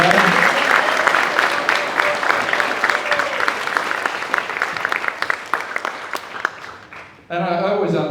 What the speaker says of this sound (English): can we give Karen a round of applause for drawing us all together?